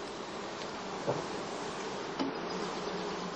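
Honey bees buzzing at a heather straw skep during sugar-solution feeding before the swarming season, a steady, dense droning hum of many insects close by with no talk.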